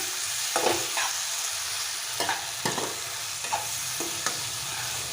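Roasted eggplant thokku is stirred in a pan of hot oil, with a steady loud sizzle broken by spoon scrapes and soft clacks at an even pace, heard alone without voices.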